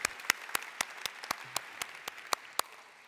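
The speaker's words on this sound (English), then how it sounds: "a round of applause for all of you" A small group at an event on intergenerational trauma claps in sparse, separate, evenly spaced hand claps, fairly close and modest in volume, with no voices over them.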